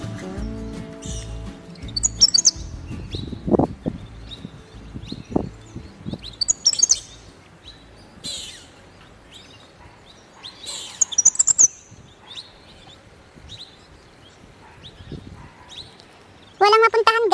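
Short, high bird chirps come in scattered bursts over several seconds at a pond in Australia, with people talking and some handling noise beneath.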